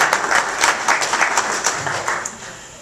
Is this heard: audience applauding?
yes